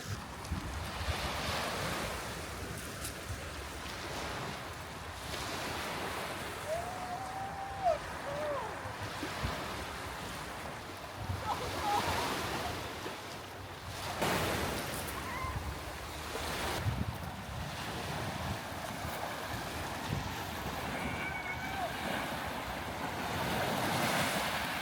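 Sea waves wash against the shore in Greece, a continuous surf with rising and falling swells and gusts of wind buffeting the microphone.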